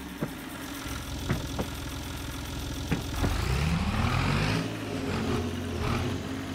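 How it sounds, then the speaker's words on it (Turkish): A tractor engine in a farming roleplay video game cranks over in a few sharp clicks, then catches around the midpoint with a rising rumble and settles into a steady, close mid-pitched idle with no talking. "Hatta traktörü çalıştırayım."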